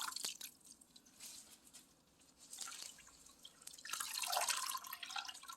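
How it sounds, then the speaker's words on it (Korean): Raw shrimp being rinsed in a salt-water brine, with soft intermittent drips and splashes of liquid, quiet and close, rising to a fuller wash near the end; no talking. "자 이렇게 염수물에다가 한번 헹궈 주겠습니다"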